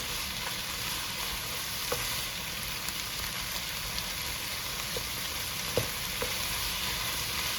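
Cooked chicken for a lasagna being stirred and mixed in a pan: an even, rain-like sizzle throughout, with a few faint, scattered spoon taps, no voices.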